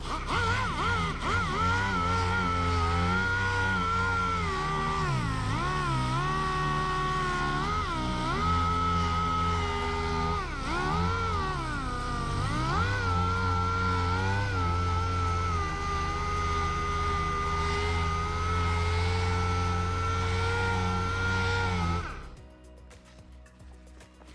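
A power sander works over a car bumper during a mobile bumper repair in Phoenix, Arizona. Its steady, droning motor whine dips and wavers in pitch as pressure changes, running for about twenty seconds before cutting off.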